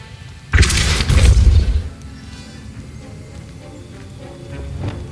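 A Depulso force spell is cast in Hogwarts Legacy, a loud, sudden booming whoosh that lasts about a second and a half before fading into a quieter, low rumbling background.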